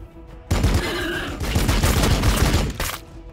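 Loud gunfire from the Warhammer 40,000: Battlesector strategy game erupts in a rapid, dense volley lasting a couple of seconds, then cuts off abruptly and starts again briefly, with no talking.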